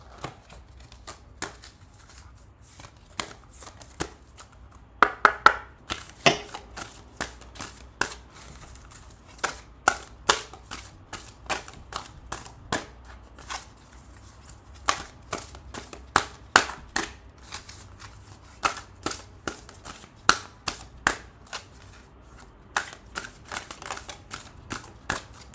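Oracle cards from an angel deck drawn and shuffled by hand, a long run of quick, crisp clicks and flutters in uneven bursts, close and fairly quiet, with no voice.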